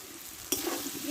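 Ground spices frying with oil in a pan while making Bengali-style ghugni, a steady soft sizzle with a sharper clatter of stirring partway through.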